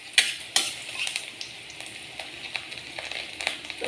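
Sliced onions frying in oil in a pan, a continuous crackling sizzle with a few sharp pops and spatters near the start.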